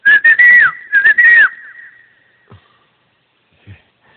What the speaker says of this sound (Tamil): ஏண்டா விசில் அடிச்ச?